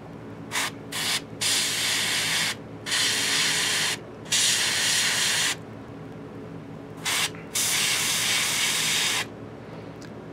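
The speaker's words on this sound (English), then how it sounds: "I am painting a hill giant, and I'm showing some. I'm talking about airbrushing." An airbrush sprays paint onto a Reaper hill giant miniature in short and longer bursts, a bright close hiss that starts and stops repeatedly with quiet gaps between.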